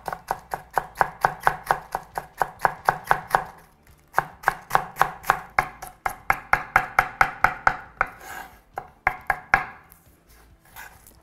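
A knife cuts white cabbage into strips rapidly and rhythmically on a cutting board, dozens of crisp steady strokes with brief pauses between bursts, close and clear.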